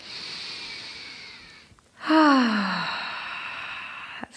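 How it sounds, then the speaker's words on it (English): Deep, strong breathing during a yoga session, with one long airy exhale, a pause, then a loud drawn-in breath with a falling, wheezy tone, very close to the microphone. "Deep, strong breaths."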